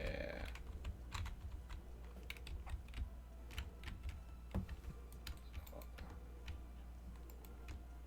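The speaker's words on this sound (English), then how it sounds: "I will hit every button on this keyboard." Computer keyboard keys struck repeatedly while a Dragon Quest 8 game is played, quick irregular clicks and taps in bursts, close but quiet, with no speech.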